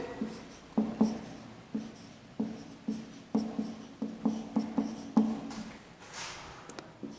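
A teacher writes on a classroom board during an English lesson, chalk tapping and scratching in short irregular strokes, close and fairly quiet, with no talking.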